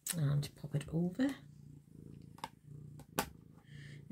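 A house cat purrs in a low, steady rumble close to the mic during a rubber-stamping craft session, with someone talking over it at first and a few soft clicks and taps afterward.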